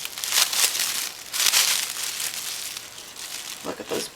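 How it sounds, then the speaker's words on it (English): Plastic wrap is peeled and crinkled off a hand-knit project of tie-dyed wool, producing close, bright crackling rustles in bursts with a short pause, loud and alone. "So I'm just going to unwrap it right here."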